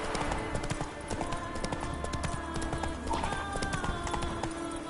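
Rapid clip-clop of Roach, a horse galloping in a video game, drives steadily and close throughout, with occasional faint whinny-like tones and a continuous game soundscape underneath.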